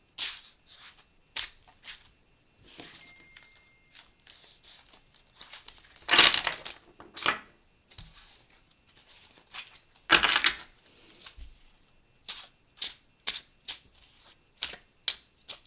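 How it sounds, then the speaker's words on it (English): Tarot cards are shuffled by hand in a quiet room, a series of soft, crisp riffling bursts and flicks repeating irregularly, close and fairly faint, with a few louder shuffles partway through. "A couple more shuffles."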